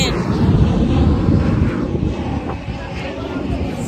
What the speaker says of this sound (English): we're at the airport and I'm walking in